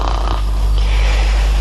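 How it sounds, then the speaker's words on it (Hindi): A woman snoring in a radio drama, one loud, rough breath close up, alone with no talking. "खूब सो मेम साहब, खूब खर्राटे भर कर सो।"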